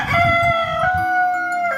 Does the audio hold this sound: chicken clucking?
yes